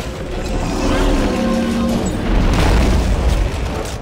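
Rocket launcher explosion in the video game Dead Space 3, a loud booming blast with crackling debris that swells and lingers for a few seconds over game background noise.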